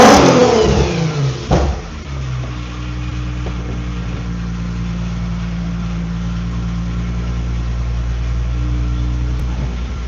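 Infiniti G35 drift car engine revving hard at the start, then settling into a steady, loud idle rumble held close by for the rest of the clip, with no talking.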